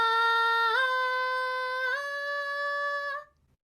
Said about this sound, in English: So a full-throated higher note will sound something like this.